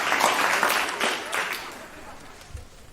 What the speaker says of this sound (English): a round of applause to all of our partners and sponsors